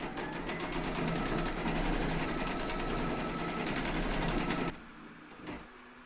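A sewing machine runs fast and steady, stitching an animal panel on a scalloped-edge baby quilt with a dense, even mechanical chatter, then stops abruptly and leaves a quiet room with a small knock.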